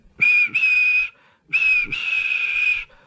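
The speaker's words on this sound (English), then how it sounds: "And he blew his whistle" A steam locomotive whistle sounds in two long, shrill, steady blasts, the second held longer, close and loud with no talking.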